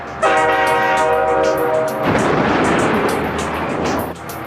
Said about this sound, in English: This train in Arizona has just left the station and is approaching a level crossing.